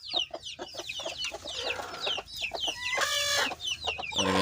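Several chickens cluck and squawk close by at a coop where a small hen sits on eggs, with busy overlapping calls and a louder burst of clucking near the end.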